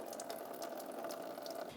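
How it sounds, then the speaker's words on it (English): Coolant trickles and splashes steadily out of the opened radiator plug on a 2000–2007 Ford Taurus 3.0L V6, a soft continuous pour heard up close for under two seconds. "you're going to drain your coolant"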